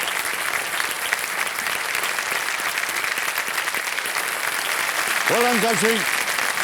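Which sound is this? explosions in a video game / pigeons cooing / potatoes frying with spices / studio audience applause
studio audience applause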